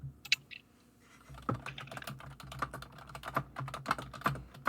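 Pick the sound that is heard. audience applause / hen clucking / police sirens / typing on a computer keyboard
typing on a computer keyboard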